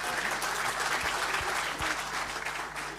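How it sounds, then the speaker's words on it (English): Audience applause at a technical conference session on internet peering, a dense steady patter of many hands clapping throughout, fairly close and filling the room, with a few low thumps underneath. "Hey, you got some applause there."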